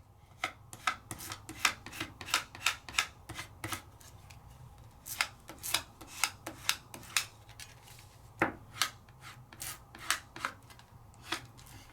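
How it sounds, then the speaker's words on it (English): Adhesive rub-on transfer with foil being rubbed onto paper, repeated close scratchy strokes in an uneven rhythm, quiet with no speech. "lay it down and then give a good rub"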